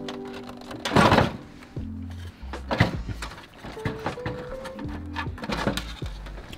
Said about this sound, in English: Pivot it out, and the housing's removed.